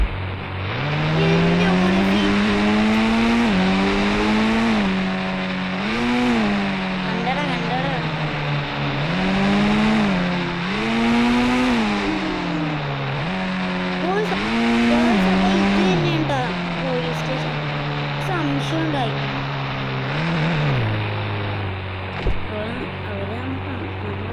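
A vehicle engine in the mobile game Indian Bike Driving 3D drones loud and steady, its pitch climbing and dropping in repeated rev surges as if shifting gears, for over twenty seconds with no pause.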